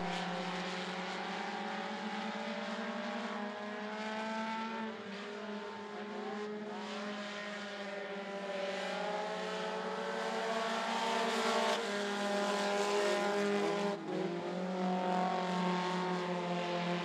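Front-wheel-drive race cars in a heat race at I-75 Raceway drone steadily in a loud, continuous engine roar, pitch rising and falling as the pack circles the track with no break.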